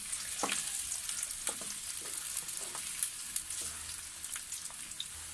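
Onions fry in hot oil in a heated kadai with a steady, soft sizzle and crackle, fairly close and alone, with no talking.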